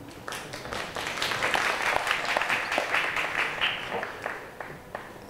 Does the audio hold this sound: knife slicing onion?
no